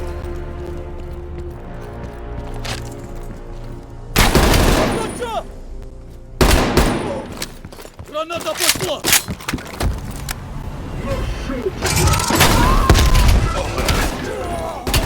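Dense gunfire in Call of Duty Black Ops Cold War: rapid bursts and volleys of automatic fire break out after a few seconds and keep going loud, with thuds and impacts under the shooting.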